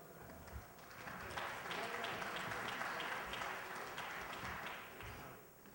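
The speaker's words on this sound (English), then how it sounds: "Please give Brother Hamm another round of applause" Quiet audience applause at a conference, a soft steady patter of many hands that swells, holds, then fades, heard from a distance.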